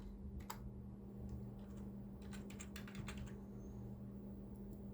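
Computer keyboard keys are typed in short irregular bursts of clicks over a steady electrical hum, fairly quiet and close, with no voices.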